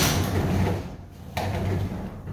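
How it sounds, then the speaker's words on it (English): A residential garage door, balanced by tensioned springs, is raised by hand all the way to fully open, making a steady close rolling rumble with a brief clunk partway through. "I can lift my door all the way up,"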